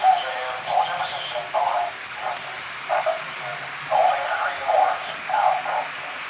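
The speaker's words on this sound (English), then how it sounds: "Yeah, if you just heard that, we have a steam engine." An HO scale model steam engine sounds in a room, giving a series of rhythmic, mid-pitched chuffing bursts at a moderate, fairly steady pace.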